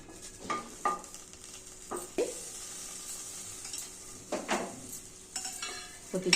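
Mint leaves stir-roasted in a warm pan for a tiffin-centre chutney, with soft scraping strokes and faint sizzling that recur every second or so, each stroke brief and close.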